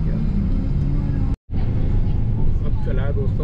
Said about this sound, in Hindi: खूब ट्रैफिक है देखिए।